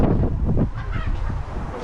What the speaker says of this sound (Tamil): பியூட்டிஃபுல்லான பீகாக் வச்சுருக்காங்க பாரு